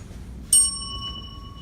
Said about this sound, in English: here's my bell